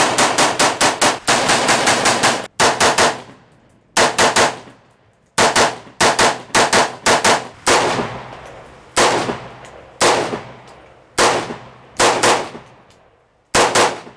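An AR-15 rifle fires loud, close shots, a quick volley at first and then steady single rounds in short groups with brief gaps between them.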